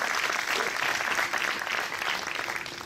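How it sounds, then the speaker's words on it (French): Audience applause at the opening ceremony of the FIFFH 2017 festival, a dense, sustained round of clapping from a crowd, steady and fairly loud throughout. "applaudissements pour Louis Escoula, s'il vous plaît."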